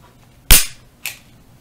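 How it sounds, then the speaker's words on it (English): Two sharp metallic clicks from a Smith & Wesson SD40VE pistol being dry fired after reassembly, a loud snap followed about half a second later by a softer click, close up in a quiet room. "Go ahead and dry fire."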